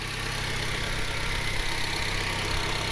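A Honda Civic with an R18 engine and turbo idles steadily and smoothly, a continuous even hum with no revving or change in pitch.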